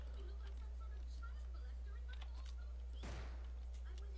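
A single faint, sharp pistol shot fired in the Roblox zombie-survival game The Final Stand 2, cracking out once near the end after a quiet stretch.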